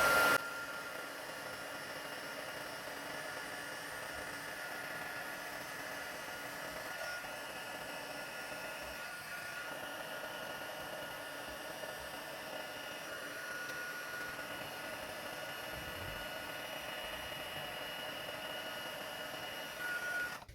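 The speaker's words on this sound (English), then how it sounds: "I'm going to grab my heat tool, set it to the second setting, and I'm just going to heat up this embossing powder" A heat tool on its second setting warms embossing powder for a Christmas gift tag, giving a steady, close, even blowing hiss that runs without a break and without talk.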